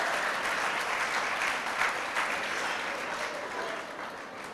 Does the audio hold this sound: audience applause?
yes